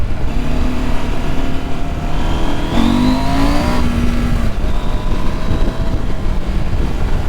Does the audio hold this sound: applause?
no